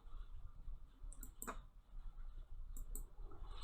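A computer mouse gives two crisp, close clicks, spaced about a second and a half apart, over a steady low background hum.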